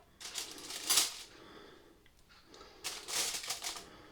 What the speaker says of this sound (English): I'll try and rest some knives along the top to hold the foil in place